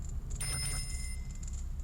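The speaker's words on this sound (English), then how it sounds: "kind of just a bell ring" A high, clear fairy bell chime from Tatl in Majora's Mask rings out over steady low game hum, a bright sustained tone with shimmering overtones lasting about a second before fading.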